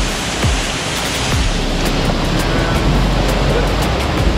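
A rainforest waterfall in Ecuador, a steady, loud broadband rush of falling water that continues without a break, with faint voices now and then.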